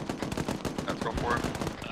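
A .50 caliber machine gun in a military video game fires rapid, continuous bursts at moderate distance, mixed with faint voices in the background.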